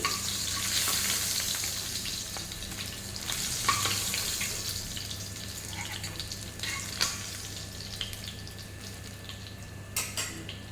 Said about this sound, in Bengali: এইভাবে উল্টে পাল্টে কখনো হাই ফ্লেমে কখনো লো ফ্লেমে করে ভেজে নিতে হবে।